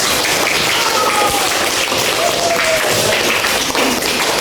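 Students in a classroom applauding a classmate, a dense, even patter of clapping that runs steadily through the whole moment with no clear pauses.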